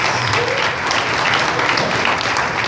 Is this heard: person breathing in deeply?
no